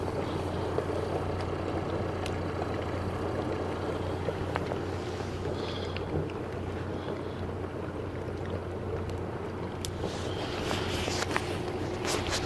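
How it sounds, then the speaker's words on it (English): A boat's engine drones steadily and evenly while the vessel travels out of Scoresby Sund in Greenland toward Iceland. The low hum continues without a break, with faint wind and water noise on top and no voices. "Noise is the engine going."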